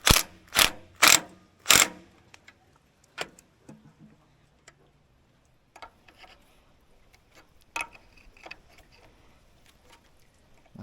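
The ratchet on a homemade log splitter clicks sharply four times in quick succession, then gives a few softer scattered ticks and metallic clicks with quiet gaps between them.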